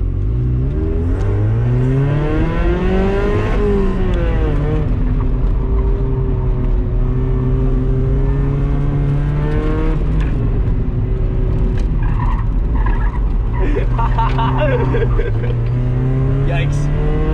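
A car engine drones and revs through an autocross run, pitch rising and falling under load, loud and close from inside the cabin, with people talking over it.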